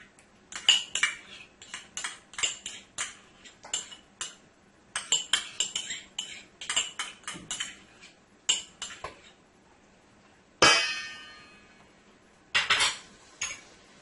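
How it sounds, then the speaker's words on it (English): Metal utensil scraping and clinking against a bowl while scooping out potato salad dressing, a series of close, sharp taps and scrapes, with a couple of longer ringing clanks. "I want to get all that goodness out of this bowl here."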